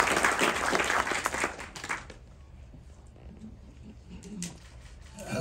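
An audience applauds at the opening of an African film festival in Montreal, dense clapping for about two seconds that fades into a quieter room with scattered sounds.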